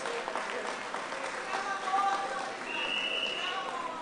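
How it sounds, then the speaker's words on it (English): Applause from the audience at a party congress, a moderate wash of clapping with a few faint voices mixed in, fairly distant and steady. "Give our leader another round of applause."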